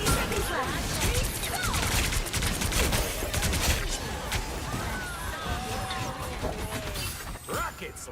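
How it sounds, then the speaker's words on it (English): Rockets launch in a Marvel Rivals match, a dense, continuous barrage of blasts and crackling impacts running throughout, loud and busy, with battle effects and voices layered over it. "Rockets launching again!"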